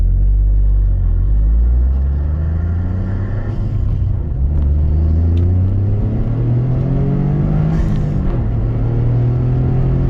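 A car engine with a modified exhaust rumbles loudly and revs up and down repeatedly, its deep exhaust note rising and falling in pitch, close by.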